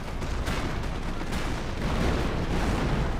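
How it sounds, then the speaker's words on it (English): Artillery creeping barrage in Company of Heroes: a dense, continuous rumble of distant shell bursts and gunfire, loud and rolling without pause, with sharper impacts swelling in and out. "It looks like a creeping barrage."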